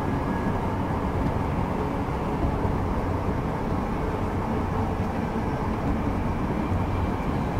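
Steady, continuous rumble of a train ride in the game Deus Ex: Mankind Divided, a low broadband drone holding at an even level throughout with no breaks or clear voices.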